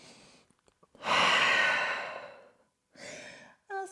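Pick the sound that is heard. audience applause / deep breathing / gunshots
deep breathing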